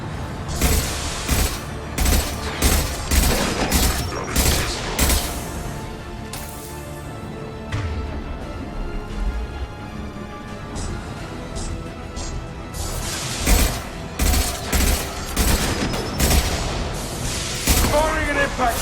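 Sci-fi gunfire and impact shots in the video game Mass Effect 2, dense bursts and booms firing in repeated volleys with a lull midway, loud and busy throughout, with character voices talking over the combat.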